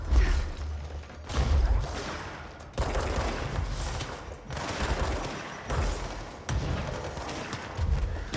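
Grenades in the video game Control go off in a string of heavy blasts, each a sudden loud boom with a rumbling decay, about six of them spaced a second or so apart amid gunfire-like impacts.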